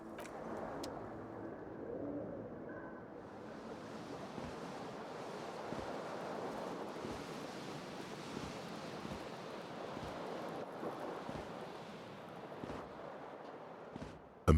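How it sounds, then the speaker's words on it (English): Cold wind blowing in through a broken window in a run-down room in Disco Elysium: The Final Cut, a steady, low, rushing howl that fills the whole stretch, with faint soft knocks. "Cold wind blows in."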